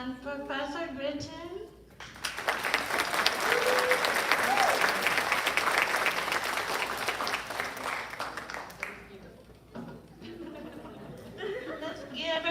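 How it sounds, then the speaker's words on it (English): A voice speaks briefly, then a crowd at a nursing college graduation bursts into full, steady applause with some chatter and light laughter. The clapping fades after about nine seconds as talking resumes. "Let's give a round of applause to them"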